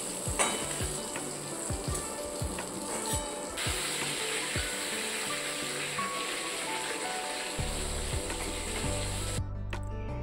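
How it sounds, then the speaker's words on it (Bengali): Raw banana pieces frying in hot oil in a wok, with a steady, dense sizzle and scattered crackles and pops close by, shifting sharply near the end. "সেই তেলের মধ্যে এবার আমি কাঁচা কলাগুলোকে এবার ভেজে নেব।"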